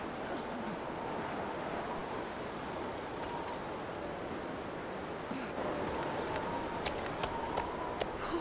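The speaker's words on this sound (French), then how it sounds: "Le bruit du vent comme ça. Surtout que dans la grotte c'est super fort." Steady, roaring wind rushes through a cave in The Long Dark, a continuous broadband gust at moderate level with slight surges near the end and no talk.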